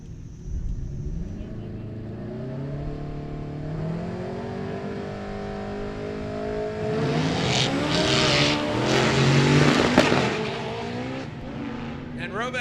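A 1990 Honda wagon and a 1967 Oldsmobile launch side by side at a drag race, engines roaring and climbing through gears as they pull down the track, with an announcer talking over the noise.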